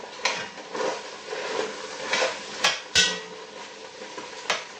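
Chopped onion goes into a pot of browning hamburger meat for chili, giving close clinks, taps and scraping of a utensil against the pot, with a few sharper knocks standing out.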